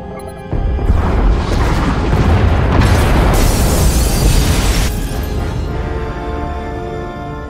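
A loud, sustained explosion roars through the pod bays in Star Wars: The Old Republic, a deep booming blast that swells and rumbles for several seconds before slowly fading, with no talking.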